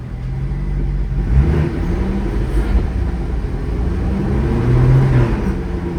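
Straight-piped C6 Corvette pulling away on a late-night city drive, a loud, deep exhaust drone with rising and falling harmonics as it accelerates through a gear, continuous and close.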